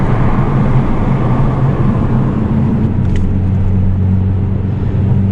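A loud, steady low drone of an Alfa Romeo 2.2 litre 4-cylinder engine fills the cabin while cruising, with road rumble underneath and one brief faint tick partway through.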